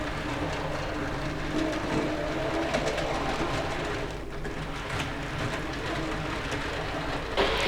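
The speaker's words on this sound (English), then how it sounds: "So I'm going to send this train on its way." A Graham Farish Class 24 model train runs around a layout, giving a steady continuous rumble and whirr of motor and wheels on track that stays even throughout, with no speech.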